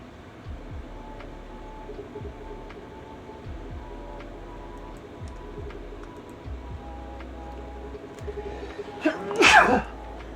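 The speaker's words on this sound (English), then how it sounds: "That was a random, rather hard sneeze there." A single hard human sneeze bursts out near the end, loud and close, rising above a quiet room with faint keyboard clicks and low background tones.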